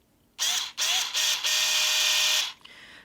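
Small handheld power driver sets screws into a Smart Doll Cortex Mirai frame in several close whirring bursts: two short runs, then one long steady run before it winds down.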